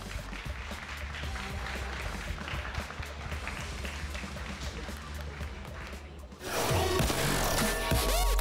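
Studio audience applauding at a FIFA Online esports broadcast, a steady wash of clapping and crowd noise that gives way to louder game sound near the end.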